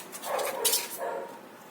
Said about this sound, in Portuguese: Essa aí é a minha cachorrinha